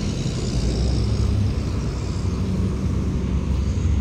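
Vehicles rolling past on a busy street on an early-morning walk to a mini grocery: a dense, constant low traffic rumble with engine drone, loud and steady with no pauses.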